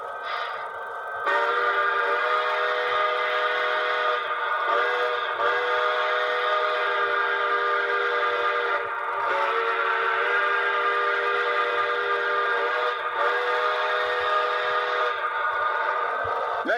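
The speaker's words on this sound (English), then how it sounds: "And these are the whistles from my engine." A steam locomotive whistle blows loud and near as one long, steady chime chord, briefly broken by short gaps before resuming, with nothing else audible.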